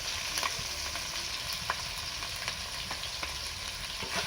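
A masala of ginger paste, chopped tomato and dried chili powder fries in a pan, sizzling steadily close by with intermittent light stirring clicks.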